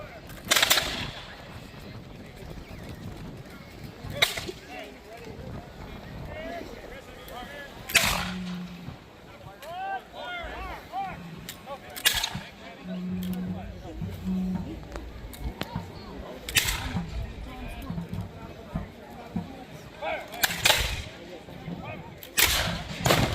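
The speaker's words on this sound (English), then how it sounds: "some of these muskets or rifles are not firing as often as they did when it started." Muskets and rifles crack in scattered, irregular volleys during a colonial-era reenactment battle, sharp reports sounding at moderate distance between stretches of background crowd talk and outdoor noise.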